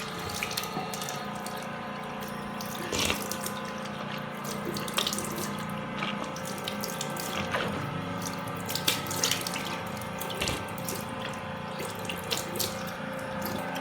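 A faucet running steadily while a toothbrush is rinsed, a continuous splashing flow of water into a sink, fairly quiet and close, with small knocks and drips and no speech.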